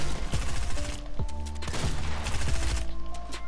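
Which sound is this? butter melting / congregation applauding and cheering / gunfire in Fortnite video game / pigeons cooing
gunfire in Fortnite video game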